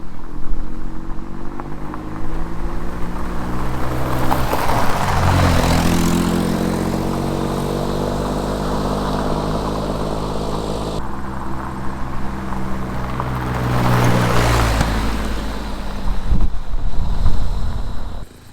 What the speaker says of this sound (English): At the very least, we have an exhaust leak here.